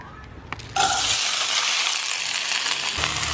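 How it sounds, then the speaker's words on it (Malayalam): Drained basmati rice hits hot sunflower oil with a sudden loud burst of sizzling that holds steady, heavy and close, after a few soft clinks of the pan. "ഇനി ഇതിലേക്ക് നമുക്ക് ഊറ്റി വെച്ചേക്കുന്ന അരി ഇട്ട് കൊടുക്കാം."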